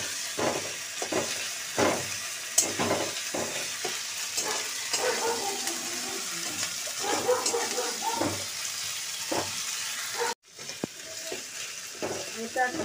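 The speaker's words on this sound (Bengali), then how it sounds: "এই আদা বাটা আর রসুন বাটা দিলাম, এর মধ্যে টমেটোটাও দিয়ে দিলাম।" Tomato fries with onion, ginger paste and garlic paste in a pan, a constant close sizzle broken by a rhythmic series of spatula scrapes and taps throughout, with a brief cut near the end.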